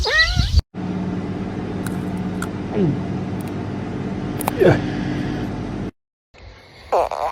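A cat meows a few times at moderate distance over a steady background hum, with brief louder sounds at the start and end.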